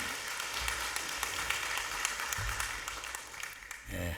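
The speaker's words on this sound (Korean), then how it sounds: "큰 박수로 하나님께 영광드립니다" A church congregation claps during a Sunday worship service, a brisk, sustained patter of many hands that fills the room at moderate loudness. The clapping tapers off near the end as a voice begins speaking.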